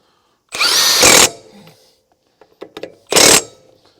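A Milwaukee M18 FUEL 1/2-inch high torque cordless impact wrench snugging fasteners rattles out two close, loud bursts, the first about three-quarters of a second long and the second shorter, with quiet handling clicks between them.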